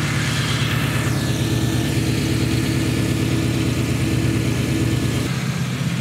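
A 1988 Chevrolet Silverado truck engine runs at a steady idle, close and loud, with a rhythmic low rumble; oil is burning off the headers, and the pitch shifts slightly near the end.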